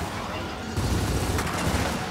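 Rapid gunfire from the video game Gears of War 4 erupts partway through in dense, loud bursts, with a voice faintly present underneath.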